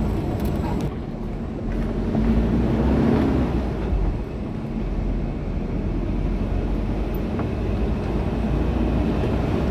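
A motorbike engine straining steadily uphill carrying two riders, a continuous low droning roar that rises slightly in intensity, with some rushing wind noise and no clear talk.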